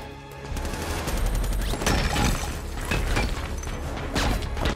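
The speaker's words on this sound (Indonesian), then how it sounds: "Alhasil terjadilah baku tembak di antara mereka." Gunfight in the action film The Marine 2, with dense bursts of automatic gunfire and scattered single shots crackling loudly and continuously, with crashing impacts mixed in.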